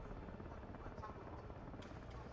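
Helicopter rotor drone in the video game Delta Force, a steady low buzzing wash held at a constant level throughout, with commentators talking over it.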